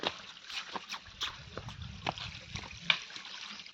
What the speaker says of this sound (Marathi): हे बघ हो कसला पाणी पितोय बघ